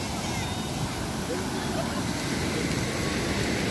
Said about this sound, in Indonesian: Pada ombak bagus guys